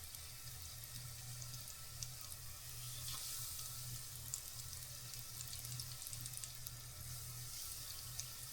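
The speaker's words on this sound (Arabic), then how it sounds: "درتهم في الزيت وغادي نخليهم يتقلاو على خاطرهم" Tunisian kefta patties of meat and cauliflower sizzling in hot oil, a continuous soft crackle with faint pops running steadily throughout, fairly quiet and with no voices.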